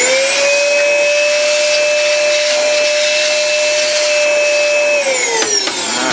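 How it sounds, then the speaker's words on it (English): A small vacuum cleaner drones steadily and loudly while cleaning out a toner cartridge hopper, its whine holding constant before sliding down in pitch as the motor winds off. "I give it a quick vacuum."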